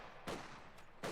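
Rifle fire in Company of Heroes, with two broadband shot bursts near the start and end of a short stretch and a faint third report between, mid-distance against a low battlefield rumble.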